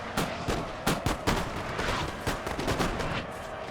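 Grenades bursting amid musket volleys in Napoleon Total War, a dense run of sharp cracks and booms layered over a constant battlefield roar, loud and close with no speech.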